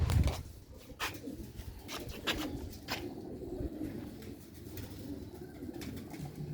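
Young black-faced pigeons with red markings coo softly and repeatedly at a loft, with scattered rustling and light knocks throughout.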